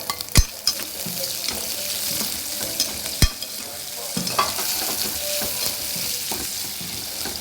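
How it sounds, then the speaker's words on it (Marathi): Onion frying in a pan for a sesame and green chilli dish, with a steady sizzle throughout and several sharp scrapes and clinks as a spoon stirs it against the pan. "आता कांदा लाल होईपर्यंत शिजवून घ्यायचा"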